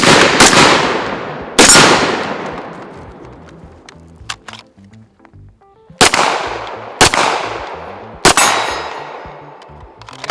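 Pistol shots ring out at an outdoor shooting range, loud sharp cracks at irregular intervals with long decaying echoes, several paired close together, plus a couple of faint metallic clinks from steel targets between them.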